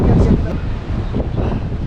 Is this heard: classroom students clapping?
no